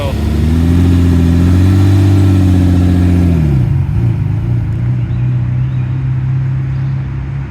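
Lamborghini Countach engine warming up, a loud steady idle with a deep droning note that rises slightly then settles lower, close by, with a voice talking over it.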